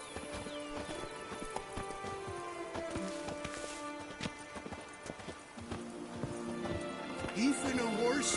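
The horse Roach gallops in a video game, a steady rapid clip-clop of hooves over a layered background with music and ambience, while a voice speaks over it.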